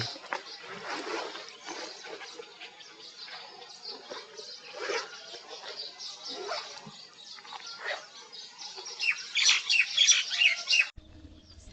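A baya weaver bird beside a canal gives high, thin chirps and twitters while it builds its nest. The calls are rapid and continuous and grow busier toward the end before cutting off abruptly.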